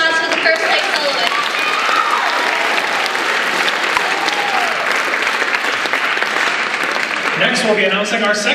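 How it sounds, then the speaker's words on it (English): Crowd applause at a school performing arts awards show for the first place soloist, dense and steady clapping filling the room, with voices rising over it near the end. "How about another round of applause for the first place soloist?"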